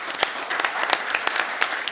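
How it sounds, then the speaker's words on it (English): Audience applause at a technology conference's innovation stage, a steady patter of many hands clapping close and dense for a couple of seconds, with no voices over it. "A round of applause to everyone."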